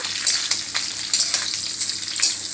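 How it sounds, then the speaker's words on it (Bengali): Boiled pieces of raw green mango frying lightly in a pan with five-spice tempering, a bright continuous sizzle with a few soft stirring scrapes, close and steady with no talking. "সেদ্ধ করা আমগুলোকে সামান্য ভেজে নেব, খুব বেশি ভেজে নেব না"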